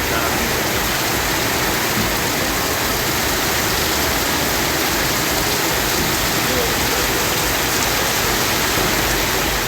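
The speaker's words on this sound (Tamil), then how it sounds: "இடங்களில் பரவலாக மழை பெய்தது" Heavy rain pours down over the Tambaram and Pallavaram suburbs of Chennai, Tamil Nadu, as a steady, loud, unbroken hiss of downpour.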